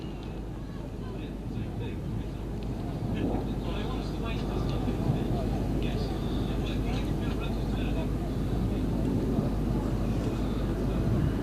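A display jet at an air festival makes a slow high-alpha pass, a dense distant rumbling roar that builds gradually and holds steady, with a commentator talking over it.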